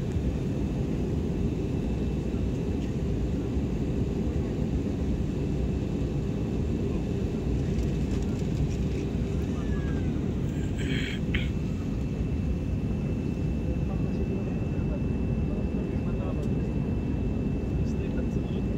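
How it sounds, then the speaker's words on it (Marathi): Steady, loud cabin roar of an airliner descending toward Pune airport, a constant broadband engine and airflow rush filling the whole stretch, with a brief faint clink partway through. "हे विमान पुणे एअरपोर्टकडे प्रवास करत आहे"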